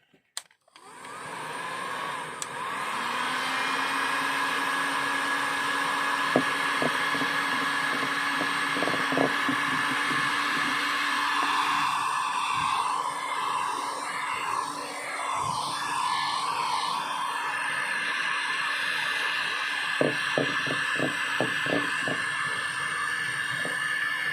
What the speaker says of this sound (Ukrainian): беремо феном по колу теж прогріваємо як саму кришку